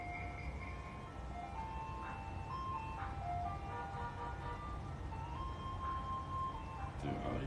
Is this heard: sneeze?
no